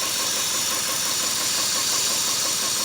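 Four-cylinder engine running on only two cylinders, a close, loud, continuous rough knocking idle with uneven rumble and hiss, no talking.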